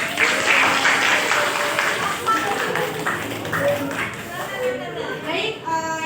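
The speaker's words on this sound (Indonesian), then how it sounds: "Tepukan buat Bella." Applause from a classroom group of students for Bella during a practical teaching exam, a dense burst of clapping at the start that thins into scattered claps under children's chatter and voices.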